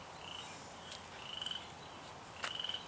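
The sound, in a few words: frog croaking outdoors in garden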